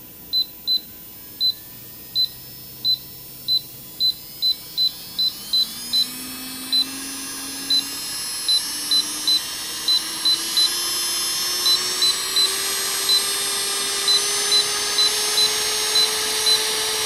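Small electric nail drill (Medenia New Touch e-file) motor whirring steadily and rising in pitch as it speeds up, with repeated short electronic beeps over the hum.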